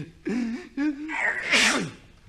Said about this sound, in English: he makes everybody sneeze